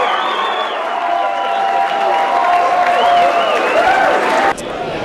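A crowd at election headquarters cheers, claps and whoops in a steady, loud roar, with voices shouting throughout before it drops off suddenly near the end.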